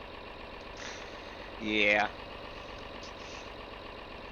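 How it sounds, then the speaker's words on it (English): Tractor engine runs in a steady, droning mid-to-low rumble close by, with no clear throttle surge, while someone speaks briefly over it. "You guys can probably hardly hear me over this loud tractor anyway."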